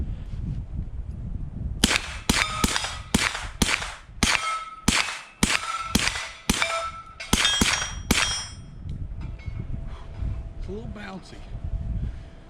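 Roughly a dozen sharp 9mm gunshots from a MAT9 AR-style carbine at an outdoor range, fired in quick uneven bursts with a ringing metallic clang after many of them, then a quieter stretch of ambient noise.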